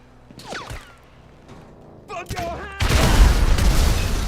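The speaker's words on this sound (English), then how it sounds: "when in doubt, grenades" Grenade blasts in GTA 5 Online start about two seconds in and build into a loud, sustained roar of explosions that fills the last part. A few faint game noises come before them, and a player talks over parts of it.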